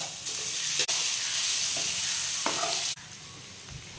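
Paneer fries in oil in a kadai for vegetable biryani, making a loud, continuous close-up sizzle and hiss with a couple of sharp clicks from a utensil.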